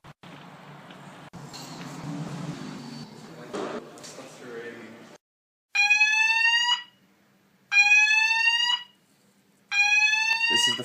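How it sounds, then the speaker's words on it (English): Intermittent fire alarm in the Cambridge Computer Science building sounds in three loud, harsh electronic bursts, each about a second long with short gaps, after a stretch of indoor noise and a voice. "This is the first time the fire alarm has been off this term."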